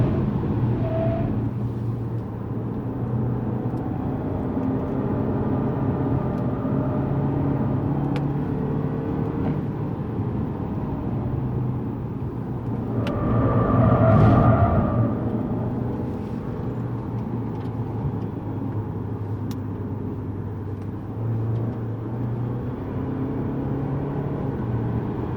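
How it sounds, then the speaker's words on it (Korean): A Lexus GS200t driving on the Yongin Speedway track with hard braking into the first corner, a steady engine and road drone heard from inside the car, swelling briefly midway, with no talk. "첫 번째 코너에서 하드 브레이킹 들어갑니다."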